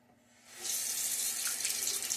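Tap water pours into a sink for wetting shaving lather. It starts faint, swells to a steady close rush after about half a second, and keeps running alone to the end.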